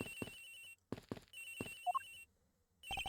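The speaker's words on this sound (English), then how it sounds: "it sounds like the cell phone's in the flight attendant's room" A cell phone rings in the video game Ace Attorney Investigations aboard an airliner, near the flight attendant's room, with repeated electronic ring bursts broken by short gaps and a brief rising chime.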